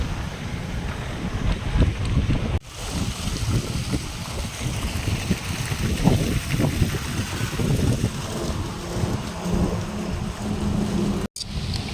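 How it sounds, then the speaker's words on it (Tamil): Strong wind buffets the microphone in a constant low roar, gusting unevenly, with a couple of abrupt dropouts and no talking. "நல்லா சிலு சிலு சிலுன்னு காற்று அடிச்சுக்கிட்டு இருக்கு"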